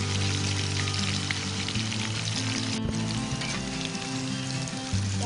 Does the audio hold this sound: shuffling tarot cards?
no